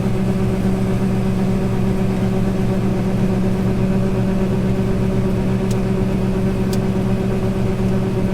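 A John Deere 7600 engine runs steadily in a farm field, a constant droning hum with strong low harmonics, close and unbroken, with two faint ticks near the end.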